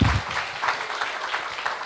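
An audience gives a brief round of applause for a father at a talk on early childhood education, a soft, dense wash of clapping that continues evenly for about two seconds.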